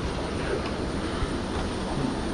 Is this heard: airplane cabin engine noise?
yes